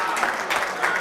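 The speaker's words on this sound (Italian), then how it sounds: "Applausi per Franco Sciascia" Spectators at a bocce tournament clap briefly, a short burst of crowd applause that rises and falls in quick waves.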